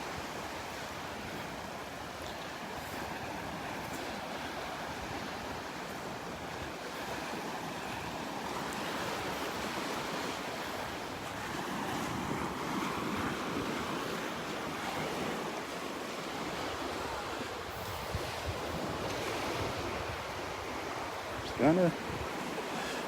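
Steady surf rolls onto a beach in North Naples, Florida, a continuous broad wash of breaking waves with wind buffeting the microphone, and a brief bird call near the end.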